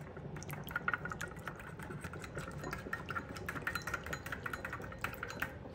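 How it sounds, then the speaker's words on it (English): A whisk clatters rapidly against a bowl, mixing a peppered sauce in a steady run of quick, light taps that carry on without a break. "And just whisk that up."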